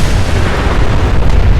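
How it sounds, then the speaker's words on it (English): Mini nuke explosions in the game Fallout 4, a loud continuous rumbling roar of blasts with heavy low-end, sustained and overlapping without clear gaps. "8 little mini nuke explosions."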